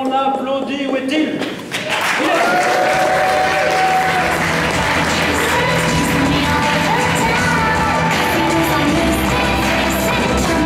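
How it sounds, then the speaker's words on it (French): Audience at a French slam poetry competition bursting into sustained, loud applause and cheering, a dense crowd of clapping that fills the whole stretch, with some voices calling out amid it. "on applaudit"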